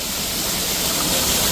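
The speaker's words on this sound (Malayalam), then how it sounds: "വെള്ളച്ചാട്ടം" A waterfall roars as a loud, dense, unbroken rush of water, close and steady, at a garden in Dubai.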